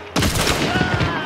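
A single loud shot rings out in a shooter video game, followed by a short echoing tail with overlapping rapid reports.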